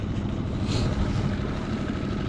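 A Honda Storm 6 hp outboard motor drives a small boat, a steady low droning hum with wind and water noise and no talking.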